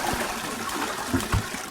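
Toilet flush in the video game R.E.P.O., a short rushing gurgle of water with swelling splashes toward the end, fairly close and heard alone without talk.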